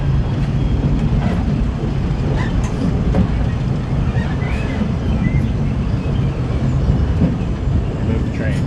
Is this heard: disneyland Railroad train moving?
yes